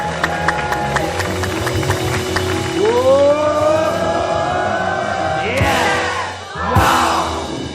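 An audience at a talk show cheers with drawn-out, rising whoops, then breaks into two short bursts of clapping and crowd noise near the end.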